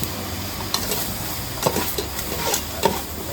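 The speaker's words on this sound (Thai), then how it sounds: "ผัดพริกแกงเหมือนเดิมครับ คั่วกับแป๊บนึง" Thai curry paste being stir-fried in a pan for a coconut-milk chicken curry with banana blossom, giving a steady close sizzle with a few sharp scrapes and clinks of a utensil against the pan, no voices.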